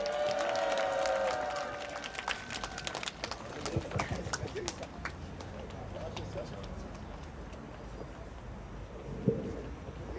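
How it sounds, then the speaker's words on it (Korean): Applause from an outdoor political rally crowd welcoming a speaker, scattered clapping that fades within a few seconds into a noisy open-air background with voices. "큰 박수로 환영해 주십시오"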